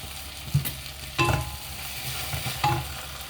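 Mint and coriander leaves dropped into a hot pan while cooking tomato rice, a low steady sizzle with three distinct bursts as the leaves go in or are stirred, fairly quiet and without speech.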